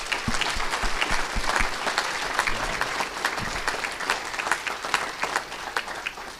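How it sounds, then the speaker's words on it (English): A crowd at an athletic hall of fame banquet bursts into sustained applause, full and continuous throughout, with a few louder claps up close at the start. "Everyone, let's give Coach Dean a round of applause."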